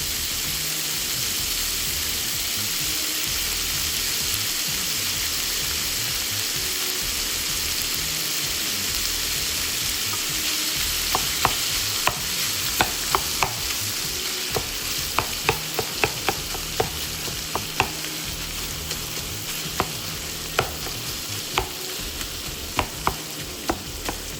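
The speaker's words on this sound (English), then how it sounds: "Ground beef is cooking pretty fast. This is a very hot skillet." Ground beef sizzling in a very hot skillet for sloppy joes, a dense continuous hiss with spatula scrapes and taps growing frequent in the second half, no voices.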